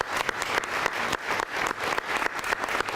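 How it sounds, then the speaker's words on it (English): Audience at a donor recognition luncheon applauds development and financial aid office staff, a sustained, lively wash of many hands clapping with slight pulsing swells and no talk on top. "I would like to give you a round of applause."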